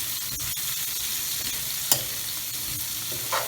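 Mixed vegetables including carrots are stir-fried for a spicy noodle and fried rice bowl, giving a steady close sizzle with a few sharp utensil scrapes and taps.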